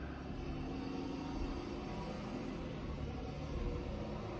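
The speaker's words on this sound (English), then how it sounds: "a school bus just went by" A school bus driving past outside makes a steady, muffled low rumble that lasts throughout, heard from indoors with no voices over it.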